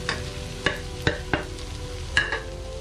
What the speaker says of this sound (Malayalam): നമ്മൾ ജസ്റ്റ് ഒന്ന് വറുത്തെടുക്കണം ശരിക്കും നന്നായിട്ട്.